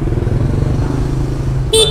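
A used motorcycle, a recently bought 29V7-plated bike, idles with a steady, smooth low engine rumble close by, and a short horn toot cuts in at the end.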